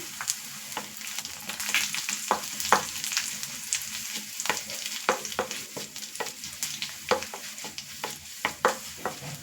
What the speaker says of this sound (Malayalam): ഒരല്പം കറിവേപ്പില കൂടെ ഒന്ന് ഇട്ട് കൊടുക്കാം